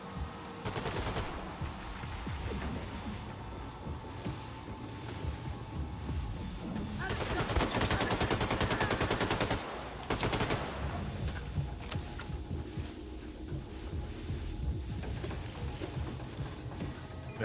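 Gunfire in the video game Wolfenstein 2, with bursts of rapid automatic shots and a long sustained volley, loud and dense, over a busy game soundscape.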